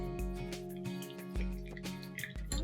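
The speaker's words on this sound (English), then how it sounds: "I'm going to add 3 tablespoons of ghee." Spoonfuls of ghee land in a heated kadai with soft wet drips and brief squishy splashes that recur every half second or so, close and moderately loud over a steady tonal hum.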